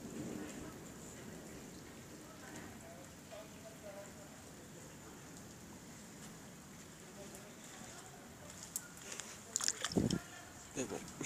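Heavy rain falls steadily during a violent autumn thunderstorm in Carpentras, with sharp, loud cracks and rumbles of nearby lightning strikes bursting in near the end.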